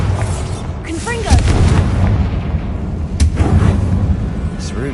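Confringo fire-blast spell in the video game Hogwarts Legacy, a series of booming, crackling bursts with a low roaring rumble, several sharp hits spread across a few seconds amid game effects.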